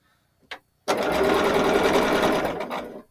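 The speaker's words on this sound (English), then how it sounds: "then I'll actually sew the quilt together" Sewing machine stitching a red and white quarter-square-triangle quilt: a short click, then a steady, close mechanical whir running for about two seconds before it slows and stops.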